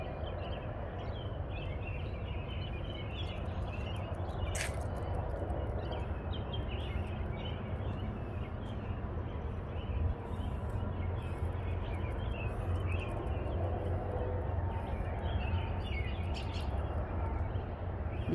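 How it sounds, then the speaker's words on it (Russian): Birds chirp and sing across a steady outdoor background in a village before 6 a.m., a dense dawn chorus of overlapping calls at moderate distance with no talking. "а птички уже прославляют Господа"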